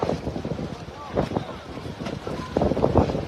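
Strong wind gusting in Oroquieta City, a broad roaring rush buffeting the microphone in uneven surges, with a voice talking over it.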